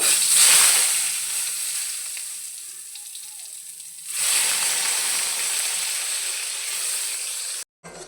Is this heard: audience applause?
no